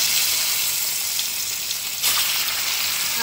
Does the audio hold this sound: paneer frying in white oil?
yes